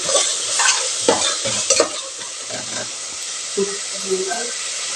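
A spoon stirs biryani masala through sizzling onions in a pan while cooking mushroom biryani, with steady frying hiss and repeated scraping strokes up close.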